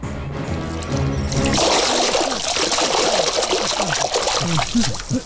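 Water poured onto sleeping men: a sudden, loud, close splashing stream that starts after a brief low sound and continues steadily, spattering and trickling to the end.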